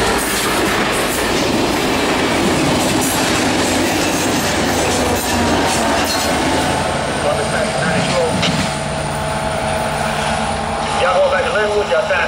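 Amtrak P075, a passenger train led by an F59PH locomotive, rumbles past at Lee with loud, steady rolling rail noise, clattering wheels and a rising squeal near the end, while voices are heard.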